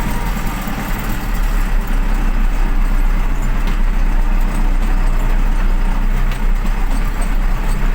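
An MTZ 1025.2 tractor, refitted with a MAN D0834 engine in place of its original D-245.5, runs steadily up close: a loud, continuous diesel rumble with a strong low throb and no voices.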